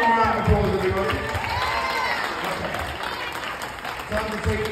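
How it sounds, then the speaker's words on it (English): During a performance night show, a crowd gives a round of applause with some cheering. It is steady and moderately loud, mixed with voices and background noise. "Let's give you a round of applause, everybody."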